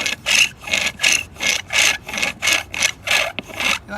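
Wood rubs back and forth against wood to start a fire by friction, about a dozen rhythmic rasping strokes in steady succession, close and fairly loud, with no talking over them.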